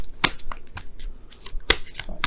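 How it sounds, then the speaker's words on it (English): Tarot cards shuffled by hand up close, a series of quick papery riffling bursts in an uneven rhythm with short pauses between them. "shuffle"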